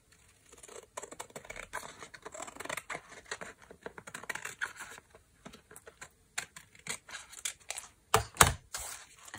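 Scissors snip through an old paper road map in quiet, irregular bursts of crisp cuts and rustling paper, close and fairly soft, with a sharper run of snips near the end.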